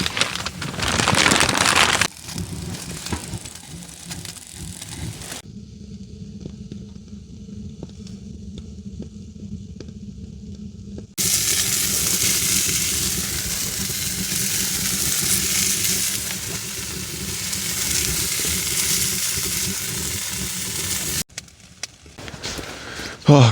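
Sausages sizzle in a pan inside a heated winter camping tent, a steady loud hiss in long stretches broken by short quieter pauses.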